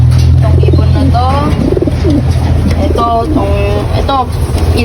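A racing pigeon coos loudly and close by in repeated rolling phrases, with a low engine-like hum running underneath.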